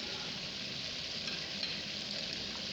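Chicken pieces fry and sizzle steadily in a pan for nihari, a dense, even crackle that runs without a break, close and fairly loud, with no voices.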